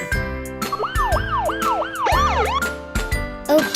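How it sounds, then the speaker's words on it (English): A toy police car siren wails in rapid rising and falling sweeps over a layered electronic jingle, loud and continuous with no pause. "Black police car."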